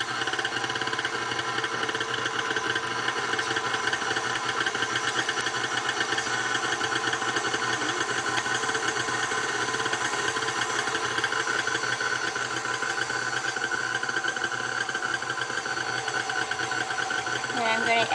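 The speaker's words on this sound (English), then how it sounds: "I have my dough hook on my KitchenAid, and I will start blending that in at number 1." A KitchenAid stand mixer with a dough hook mixing pizza dough on its lowest speed, a loud steady motor whir with a rhythmic mechanical churn that holds constant throughout.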